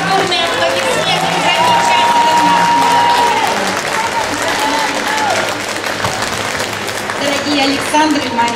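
Guests applaud the newlyweds at a traditional Russian wedding staged at an exhibition, a sustained wash of many hands clapping, with voices and a loud call rising over the clapping.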